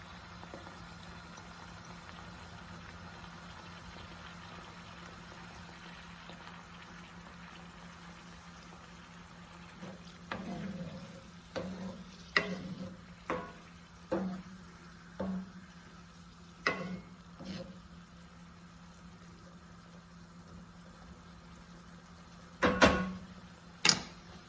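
White beans being mashed with a metal object in a cast iron pan, a quiet bubbling base broken by a run of separate scraping thumps, then a louder double clank near the end.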